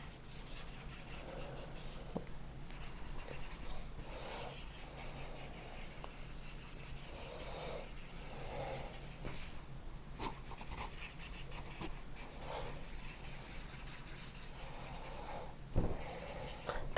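Alcohol ink marker strokes scratching softly across absorbent paper, with repeated quiet rubbing passes in an irregular rhythm and a few sharper taps, close and faint with no talking.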